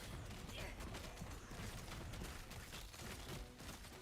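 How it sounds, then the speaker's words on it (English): Dense, continuous bursts of small explosions and crackling combat effects from the action RPG Last Epoch, loud and busy throughout with no pauses. "Small explosions."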